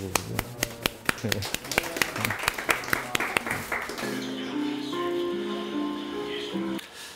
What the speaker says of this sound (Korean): 관장님께 박수